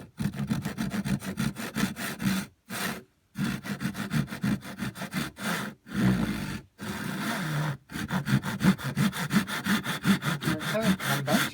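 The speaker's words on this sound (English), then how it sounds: "we're going to grab our tenon saw and we're going to line it up in the bench hook, and we're just going to get it started here" A tenon saw cuts through wood held in a bench hook, with steady rhythmic rasping strokes close up, broken by a few short pauses between runs of sawing.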